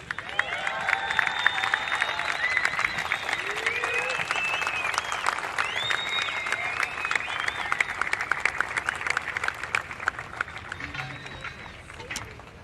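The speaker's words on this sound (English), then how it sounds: "Let's hear a huge round of applause for Caity Simmers." A crowd at a surf competition applauds and cheers for surfer Caity Simmers, steady loud clapping with whistles and shouts lasting throughout and dropping off near the end.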